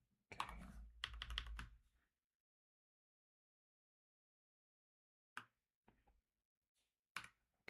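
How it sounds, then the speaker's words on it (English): Quick bursts of keypad typing, numbers entered on a computer keypad during an Escape Velocity Nova game session, a dense cluster of taps up close, then silence and a few isolated keystrokes later. "I'm better at typing numbers on the keypad"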